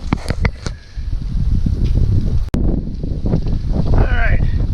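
Outdoor wind buffeting the microphone on a windy day before thunderstorms, a steady low rumble with gusty swells and one brief dropout; a voice is briefly heard in the background.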